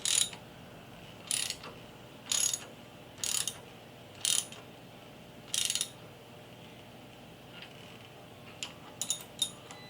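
Ratchet wrench snugging bolts on a Shadow 750 dragbike, heard as short, separate bursts of close, sharp clicking with quiet gaps between them and a cluster of lighter clicks at the end.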